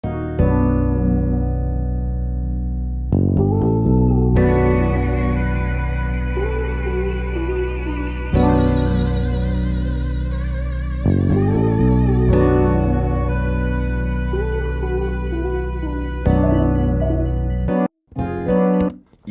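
A sped-up, pitched-up sampled music loop for a hip-hop beat plays loud and steady, chopped into sections with abrupt changes near three, eight and twelve seconds, ending with brief choppy cuts.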